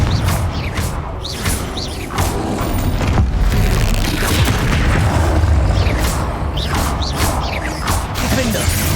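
Repeated Confringo fire spells burst in the Hogwarts Legacy video game, a dense stream of booms, whooshes and crashes layered over busy combat noise, loud and continuous.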